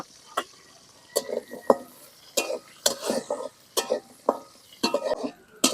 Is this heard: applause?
no